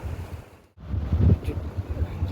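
Wind gusts buffet the microphone outdoors in Mahboula, Kuwait, a steady rushing roar with a brief drop-out before it surges back, loud and close.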